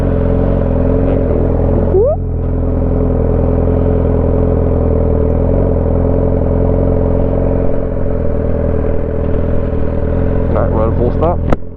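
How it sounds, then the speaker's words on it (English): Motorcycle engine idling steadily, then pulling away as the rider slowly rolls on the throttle during a clutch-and-throttle riding lesson; a continuous close, loud engine drone with a rider talking over it throughout. "And we're going to slowly apply throttle."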